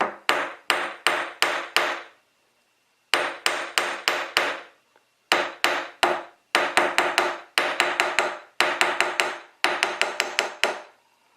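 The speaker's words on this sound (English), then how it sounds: "I'm going to hammer it one more time." Rapid bursts of sharp metallic hammer strikes on metal wire, four or five blows per burst, separated by short pauses, close and loud.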